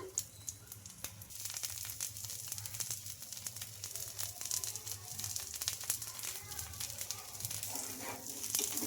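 Rice flour dosa sizzles steadily in oil on a hot pan, a soft continuous crackle and hiss with faint popping, heard close and alone.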